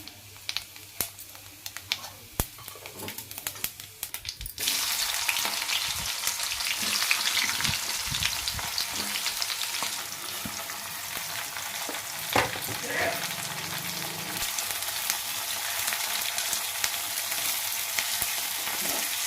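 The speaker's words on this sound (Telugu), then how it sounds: "ఆయిల్ కాగిందండి. కొంచెం 1 స్పూన్ ఆవాలు, 1 స్పూన్ జీలకర్ర" Mustard seeds and cumin sizzle and crackle in hot oil, starting with sparse pops and then swelling at about five seconds into a loud, steady sizzle dotted with sharp little spits.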